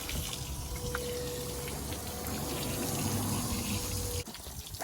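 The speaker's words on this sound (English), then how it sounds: "I'll put the hose on so you can see the pump working" Water rushes steadily from a hose with a low pump hum beneath, on a 2007 Zodiac Pro 7 inflatable boat with a Yamaha 40 HP two-stroke, then the flow cuts off abruptly near the end.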